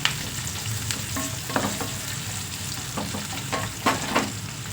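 Onions fry in oil in a pan, giving a close, steady sizzle with scattered crackles and the scrape of occasional stirring.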